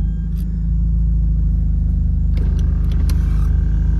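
A Hyundai Genesis Coupe's engine holds a steady, loud idle throughout, with a deep low rumble and faint higher mechanical ticks rising in the last second or so.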